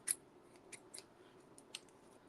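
A few quiet, sharp snips of scissors cutting paper, spaced irregularly, close by in an otherwise hushed room.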